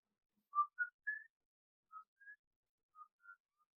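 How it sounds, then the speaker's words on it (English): Very faint, jaunty and happy whistling inside a big, dark open house: a handful of short, separate whistled notes in an uneven tune, soft and isolated against silence. "you can hear a very faint whistling sound, kind of like a jaunty, happy"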